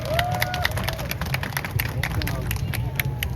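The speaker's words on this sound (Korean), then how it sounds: "자, 박수로 맞이해 주시기 바랍니다" A crowd at an outdoor citizens' protest rally in Ulsan claps steadily and densely, with scattered cheers and a murmur of voices underneath.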